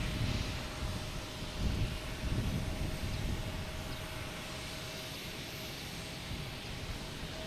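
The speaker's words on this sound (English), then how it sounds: "American coming in here from Cleveland, an A320." An American Airlines Airbus A320 inbound from Cleveland lands at Boston's Logan Airport, heard as a steady distant engine rumble and broadband roar that swells slightly and then holds, with no voices.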